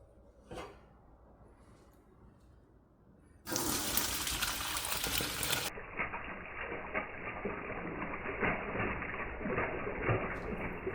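Vegan ramen broth, blended and then poured through a strainer, runs as a steady liquid stream after a quiet start. It begins abruptly and keeps going, close and fairly loud, until the end.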